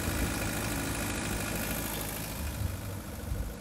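A Mitsubishi 120 PS diesel engine drives a 40 kVA Maestro generator for a sound system setup, rumbling at a steady close-up idle with a deep, continuous throb and no voices.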